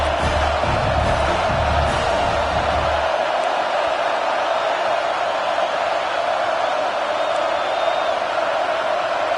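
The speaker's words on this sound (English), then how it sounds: "with this place rocking, the crowd forces a false start" Stadium crowd in the College Football 25 video game roaring as a loud, continuous wash of noise, with a low rumble early on that fades, steady throughout.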